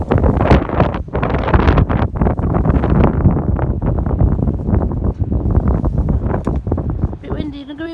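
Strong gusts of wind buffeting the microphone in loud, rough bursts, continuing steadily throughout and nearly drowning out everything else.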